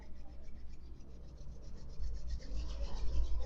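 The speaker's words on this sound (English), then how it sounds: "Let's start by rubbing our hands up" Palms rub together in a steady, soft, raspy swishing, continuous and fairly close, growing a little louder toward the end with no talking over it.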